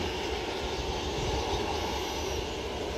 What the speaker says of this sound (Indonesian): ada pesawat mau landing